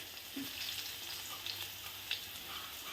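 Garlic sizzling in hot oil with cumin in a home kitchen pan, a steady close hiss of frying with small crackles and pops, alone without talk.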